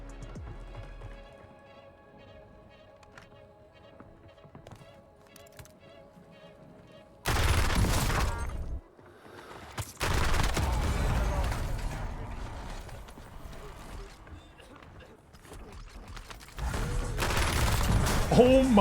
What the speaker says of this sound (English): This SMG is absolutely insane. It should not be winning gunfights like that.